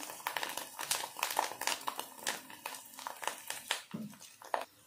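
Sabudana popcorn puffing up in hot oil, an uneven stream of crisp crackles and snapping pops, close by and fairly soft, with brief lulls between flurries.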